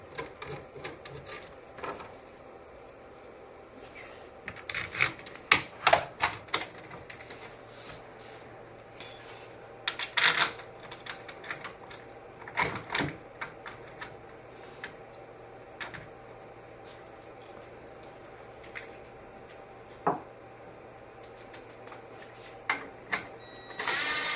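A ratchet or wrench clicks as nuts are tightened on a 2010-2015 Prius hybrid battery pack, short bursts of ticking scattered across a quiet workshop background.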